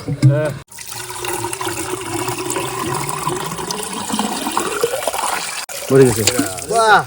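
Water rushes steadily as it is pumped out of an old pond, a continuous gushing wash running the whole time while several people talk and call out over it, loudest near the start and end.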